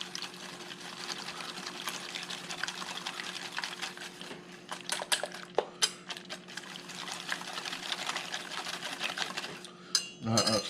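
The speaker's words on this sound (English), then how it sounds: "Once again, I'm going to whisk that together." A whisk beating an egg mixture for a kimchi tomato frittata in a bowl, a quick steady rapid scraping and sloshing rhythm, close and fairly quiet, ending with a few louder clinks against the bowl.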